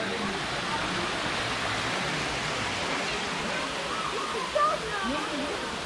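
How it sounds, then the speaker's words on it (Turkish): Waterfall at Tatlıca Waterfalls nature park in Erfelek, Sinop, a broad, constant rushing roar of falling water that fills the whole stretch, with a brief louder burst near the end. "İşte ilk şelale, böyle irili ufaklı 28 tane şelale var."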